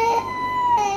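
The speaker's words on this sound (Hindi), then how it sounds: "चले मेरा बच्चा रो रहा है" An infant cries in a sustained, tonal wail that rises, holds and briefly dips, loud and close with no talk over it.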